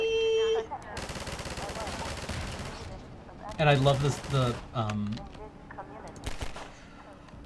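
Rapid, sharp gunfire bursts from the video game Half-Life 2, loud and close, with clusters of bangs breaking off and resuming, while players chat and laugh over the shooting.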